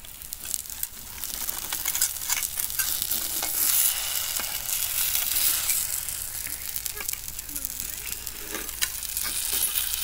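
Egg paniyaram batter frying in the wells of a paniyaram pan gives a steady, close sizzle with crackling spatter throughout, and no voices.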